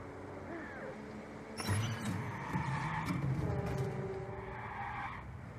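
A fast car in Watch Dogs accelerates and skids, with an engine whine rising in pitch, a sharp tire screech cutting in partway, and steady road noise carrying through to the end.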